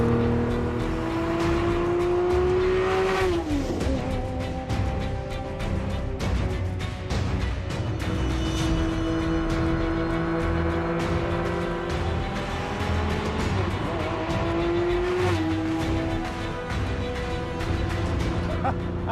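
Ferrari F50 engine heard from inside while driving: the engine climbs through revs, drops sharply with each gear change, then rises again, loud and close, with a voice talking over it at times.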